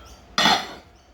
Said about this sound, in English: reaching for a bigger pot here so I can cook my potatoes in without boiling over